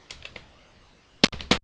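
Typing on a computer keyboard, with a few faint scattered keystrokes followed by a quiet gap and then a quick burst of louder, close clicks.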